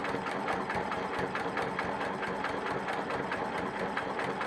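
A sewing machine free-motion quilting around a star shape on a patriotic quilt runs steadily with a fast, even stitching pulse, close and fairly loud throughout with no talking.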